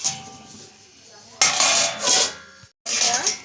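Pot of whole small potatoes with water and salt being covered with a lid: a few sharp metallic clatters and scrapes of lid on pot, separated by brief quiet, with a low hum beneath.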